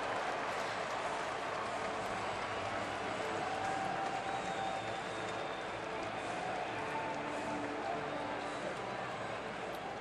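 Crowd of about 32,000 at Miller Park, Milwaukee, standing and cheering for a Brewers pitcher's debut, a continuous roar of cheers and applause that stays broad and even throughout.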